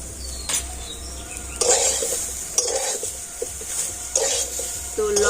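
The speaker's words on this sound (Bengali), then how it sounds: "লবণটা দিয়ে আর একটু এইভাবে নাড়াচাড়া করে নিয়ে" A raw mango pickle mixture being stirred with salt, several wet scraping strokes of a spoon against a bowl recurring at a steady pace, close up with a faint background hiss.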